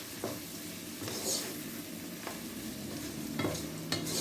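Vegetables sizzling in a hot frying pan as a utensil stirs them, with a steady crackle and occasional soft scrapes and knocks against the pan, no voices.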